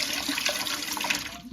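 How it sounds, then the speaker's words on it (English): A toilet being repaired flushes once the water supply is turned back on, with a brief continuous rush of water close by and no voices. "turn the water on, and you'll see it flush."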